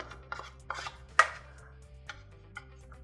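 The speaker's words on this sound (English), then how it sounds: "what I'm going to do is I'm just going to scoop it out into a bowl." Mashed butternut squash, cooked in an air fryer, is scooped from a hot pan into a bowl: a few soft scrapes and one sharper knock of a utensil against the pan, fairly quiet and with no talk.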